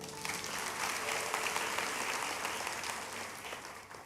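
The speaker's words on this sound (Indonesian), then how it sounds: "Yang percaya kasih tepuk tangan untuk Tuhan." A congregation applauds at an Easter church service, a steady, fairly faint wash of many hands clapping heard at a distance, holding evenly without a break for a few seconds.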